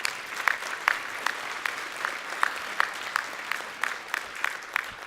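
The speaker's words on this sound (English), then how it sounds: "So I want to give them all a big round of applause for their efforts." Applause from a summit audience, fairly faint and somewhat distant, with a soft continuous patter and several sharper individual claps standing out at irregular intervals.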